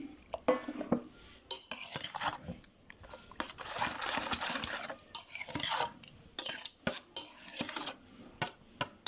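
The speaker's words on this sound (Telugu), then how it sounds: "మొత్తం పెరుగు వేసేస్తున్నానండి." A spoon scrapes and stirs curd into cooked rice in a pot or bowl, giving irregular close clinks and wet scraping strokes with brief pauses, quiet and with no talk.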